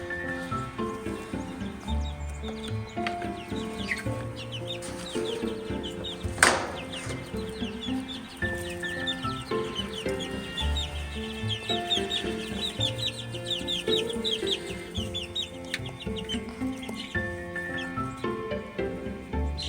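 Several chickens cluck and chatter inside a coop, a busy overlapping chorus of near and mid-distance clucks with one sharp louder squawk partway through.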